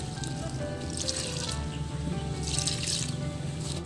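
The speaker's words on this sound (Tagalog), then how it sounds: "Ngayon po, lagyan natin ng tubig na konti lang." A small amount of water is poured into a cooking pot, giving a soft continuous trickle and splash at close range that runs steadily for a few seconds with no talk over it.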